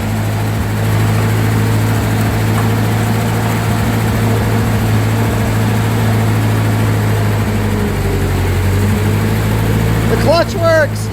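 A 1941 Ford 9N tractor engine runs with a steady low idle rumble throughout, close and loud, with a brief change near the end.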